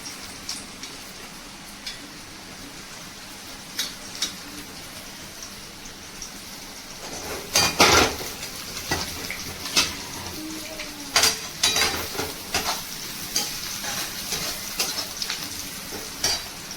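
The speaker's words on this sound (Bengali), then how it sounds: "কিছুটা তেল দিয়ে সবজিগুলোকে একে একে ভেজে নেব।" Carrots and other vegetables frying in oil in a pan for street-style mixed chowmein: a steady close sizzle that swells into louder spattering bursts with stirring and pan scrapes around the middle. No one speaks.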